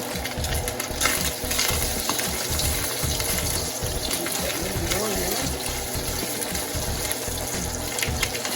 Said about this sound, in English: Be careful when you put oil in your skillet to cook your Spam because it's pop